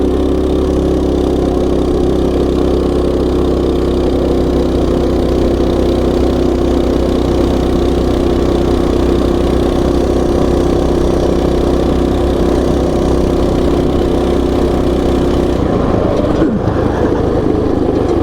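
A Coleman mini bike engine with a torque converter roars continuously at high revs during a top-speed run, loud and steady with a deep droning tone, the pitch dipping briefly near the end.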